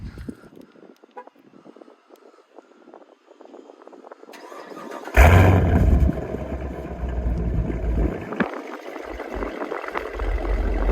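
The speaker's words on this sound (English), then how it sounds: "just a fob remote to start the car up" After a quiet moment, a 2017 Chevrolet Camaro SS V8 cranks and fires with a sudden loud roar, then settles into a deep, rumbling idle through its valved exhaust that stays close and steady.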